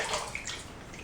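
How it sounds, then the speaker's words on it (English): Water splashes and trickles in a bathroom sink as a face is rinsed between shaving passes, soft close-up sloshing and dripping with small bursts, quiet and without speech. "I clean off my face in my sink water here"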